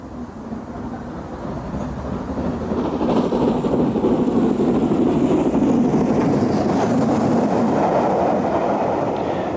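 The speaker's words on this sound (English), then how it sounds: "This train is emerging from Coombe Down Tunnel near Bath with an LMS 2P piloting a Black 5." A steam train, an LMS 2P piloting a Black 5, emerges from Coombe Down Tunnel near Bath and rumbles past nearby with a steady, growing roar of wheels and rolling stock that swells and holds loud to the end.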